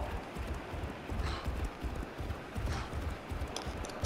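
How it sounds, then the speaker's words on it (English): A ridden boar runs in Fortnite, its hooves beating a fast, steady galloping clip-clop rhythm, close and continuous with no talking over it. "I'm just gonna ride a boar."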